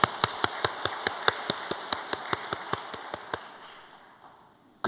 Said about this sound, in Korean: 야, 박수 한번 쳐줘.